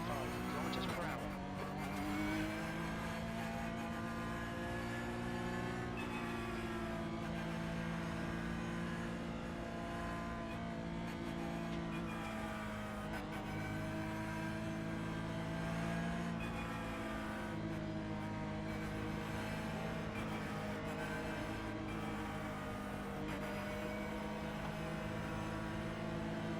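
Porsche Cup race cars roll together behind a safety car at about 75 km/h in a racing video game, a steady layered engine drone held for the whole stretch, with a voice talking over it throughout.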